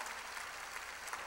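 A church congregation claps together during a sermon, heard as a faint, distant and steady wash of applause with no voices over it.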